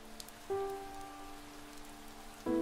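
Soft, steady rainfall patters in the video game Chaos;Child beneath sustained musical tones that swell in at two points.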